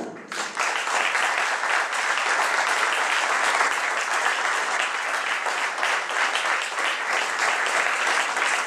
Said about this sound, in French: je vous prie d'accueillir avec vos chaleureux applaudissements le professeur Tarek Oubrou.